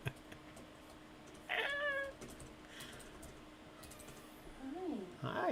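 A cat meows twice at close range, one drawn-out call and a shorter rising one a few seconds later, over a quiet indoor background with faint tapping.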